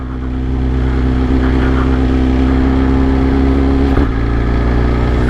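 A BMW M 1000 XR or Honda Africa Twin 1100 motorcycle engine runs steadily just after a cold start, a loud, even idle with a deep, constant drone and a brief dip in tone near the end.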